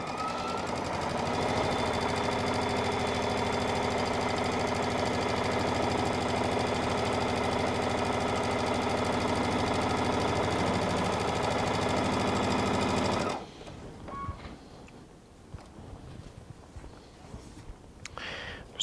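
A sewing machine stitches quilt units in a fast, steady whirring rattle for about thirteen seconds, then stops abruptly, leaving quiet handling noises and faint clicks.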